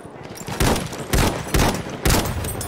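Rifle gunfire in the video game Battlefield 1: four loud, evenly spaced shots roughly half a second apart, each with a booming tail, over a quieter battlefield background.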